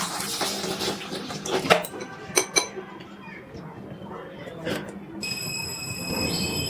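Red lentils are rinsed in a bowl of water, with metal bowl clinks and knocks, swishing handling, and a few sharper taps over a steady background.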